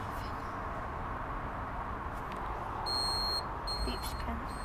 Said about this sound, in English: Beeps again.